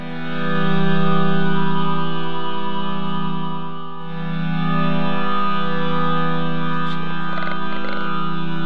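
Unmodulated synthesizer tone through a KRON CV Toolbox, a steady sustained chord swelling gently in loudness, alone with no voices until faint clicks near the end.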